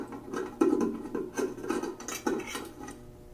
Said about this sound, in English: We're going to take off the small condensing pot and we're going to remove